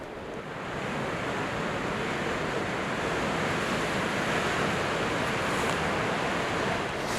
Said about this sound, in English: it looks a little bit busy with all the crashing waves